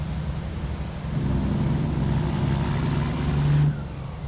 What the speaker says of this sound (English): Let's listen to this engine sound while we're at it.